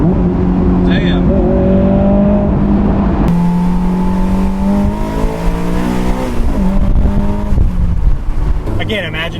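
A 2004 Honda S2000 (AP2) accelerates hard from a launch, its engine note climbing loudly and steadily from close inside the car before a gear change, with people talking over it.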